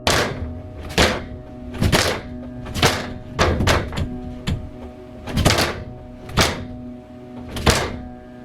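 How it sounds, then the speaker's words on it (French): Heavy attic door slams and thuds repeat about once a second, loud and close, with a few quicker double knocks in between; no voices. "On dirait que la porte du grenier se fait claquer par le haut"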